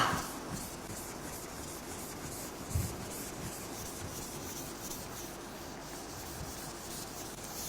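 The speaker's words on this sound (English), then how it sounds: "Now, I will rub off all these things." Steady, faint scrubbing of an eraser or duster wiping equations off a lecture-room board, continuous soft rubbing with a single small knock near the middle, no voice.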